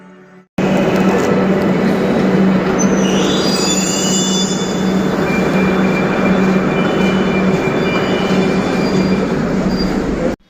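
A Kolkata metro train on the Dakshineswar line runs through the station, a loud steady rumble with rail noise and brief high wheel squeals, continuous and close with no talk.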